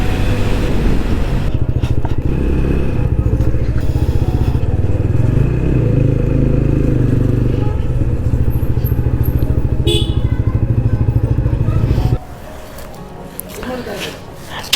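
A motorcycle rides along a road on a trip home from Udaipur, its engine a loud, continuous rumble with wind noise for most of the ride, then dropping to a quieter idle near the end.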